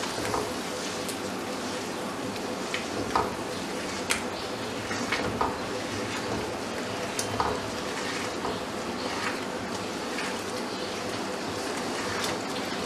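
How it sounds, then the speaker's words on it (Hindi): Chicken nihari gravy being mixed in a pot, a steady low sizzle with scattered scraping and clinking accents from the stirring, moderately quiet throughout. "फौरी फौरी हम इसको मिला देते हैं।"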